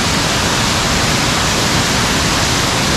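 A waterfall beside the ruins of an old mill in a wooded valley, roaring as a loud, constant broadband rush of falling water with no breaks, close by and alone.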